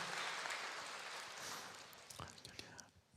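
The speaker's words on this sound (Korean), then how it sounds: "하나님께 감사의 박수 드립니다" A church congregation claps together during a worship service, a dense sustained applause that fades after about two seconds into scattered claps.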